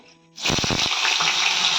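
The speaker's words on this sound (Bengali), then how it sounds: "এবার আমি আলু ভাজা" A sudden loud sizzle as potatoes hit hot oil, settling into a steady, hissing fry.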